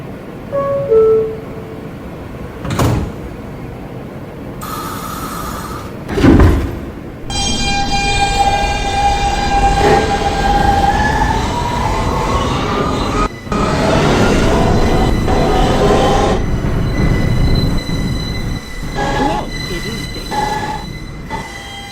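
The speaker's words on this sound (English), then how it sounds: "This is a Queens-bound R train." A Queens-bound R subway train in New York: a door chime and doors closing, then the train pulls away with rising motor whine, rumbling wheels and squealing rails that build into a loud, sustained roar.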